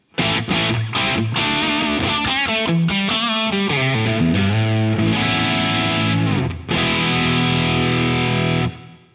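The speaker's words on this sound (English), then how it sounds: "the first one is like a Marshall style preset." Heavily distorted electric guitar through a Marshall-style preset on a Two Notes OPUS amp, playing crunchy chords and a few riffs, loud and saturated with thick gain, ringing out alone at the end.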